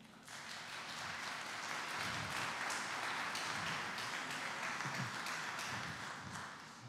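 An audience at a horse breeders' federation meeting applauds steadily, a dense wash of many hands clapping at a moderate distance, swelling and holding for several seconds before tapering off, with no speech over it.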